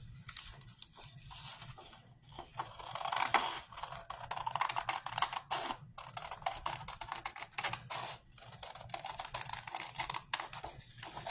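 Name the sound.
cutting out a paper shape for scrapbooking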